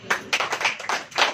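A church congregation claps during a Hindi sermon, producing a brief run of broad, overlapping clapping bursts at a moderate level with no voices present.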